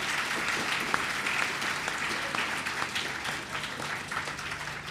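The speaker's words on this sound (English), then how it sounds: "Yes, clap for them." Audience applause at a Saint Lucia Cadet Corps enrollment and promotion ceremony, a steady, dense wash of many hands clapping that holds at an even level throughout, with faint voices mixed underneath.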